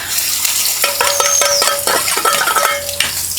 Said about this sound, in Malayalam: ഇഞ്ചി വെളുത്തുള്ളി ഇട്ടിട്ട് ഇങ്ങനെ ഇളക്കണം നന്നായിട്ട്